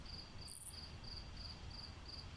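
Crickets chirp at night in a steady, evenly pulsed trill that repeats throughout, with a soft background hiss and no voices.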